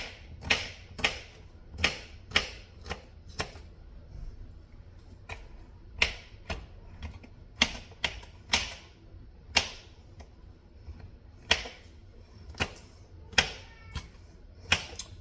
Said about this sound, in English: we're going to chop and dice celery as well.